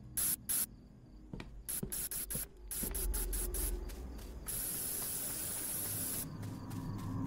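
Bear spray in the video game Fears to Fathom: Ironbark Lookout fires in short bursts, then a long, steady hiss lasts several seconds, with scattered clicks and clatter before it.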